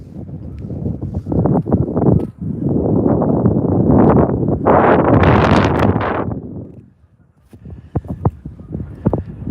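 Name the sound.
wind blowing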